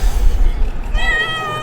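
A pet cat lets out a single clear, rising meow near the microphone during the second half, following low background rumble and bumps.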